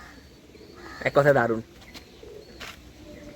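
Fancy pigeons at a home loft cooing in a short throaty burst, close by, with a voice speaking briefly alongside and light rustling around it.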